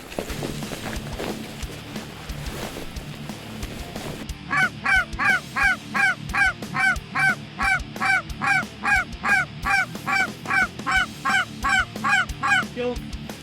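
Canada geese honk in a steady, repeated chorus of loud calls, coming in quick rhythmic bursts close by after an opening stretch of rustling field noise and low rumble; no voices are heard.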